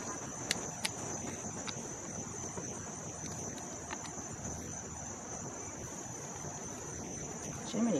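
Steady high-pitched cricket chirping fills the background continuously, with a few faint clicks and soft rustling underneath.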